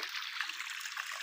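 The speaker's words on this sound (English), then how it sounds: "a lot of water that comes from this one stream that's here" Steady rushing water from a stream flowing over land that floods after heavy rain, a continuous close hiss without breaks.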